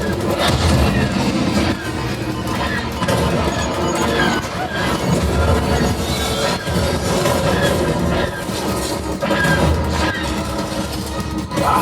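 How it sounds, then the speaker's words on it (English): Rumbling train sounds with rattling, clattering wheels and crashing effects inside the Star Wars Millennium Falcon ride, loud and continuous with brief bangs, no talk. "There is the train."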